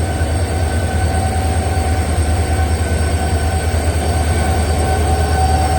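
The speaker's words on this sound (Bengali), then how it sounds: "এই আমাদের ট্রেন।" The Amaravati Express, hauled by a double engine, runs at Castle Rock junction station in Goa with a loud, steady rumble of rolling wagons and faint wheel squeal that holds through the whole stretch, with no voices.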